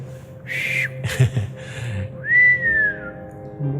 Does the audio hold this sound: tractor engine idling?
no